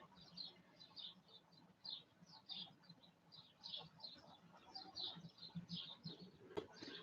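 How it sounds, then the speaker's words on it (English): Small birds chirp and tweet in quick repeated bursts, faint and somewhat distant, over a quiet indoor background. "hear the birds tweeting"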